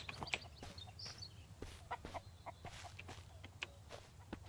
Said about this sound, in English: Yes, technically I can run after that chicken and catch it.